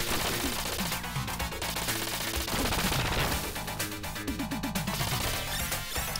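Gunfire in the 1991 Irem arcade shooter Gunforce, dense rapid bursts of synthetic shots and blasts layered over loud game music, continuous and busy throughout.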